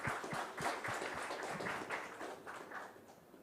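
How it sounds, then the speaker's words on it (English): An audience at a maritime regional summit applauds, a dense steady wash of many hands clapping in a hall that carries on evenly for the whole stretch without any voices over it. "Let's have a huge round of applause, ladies and gentlemen."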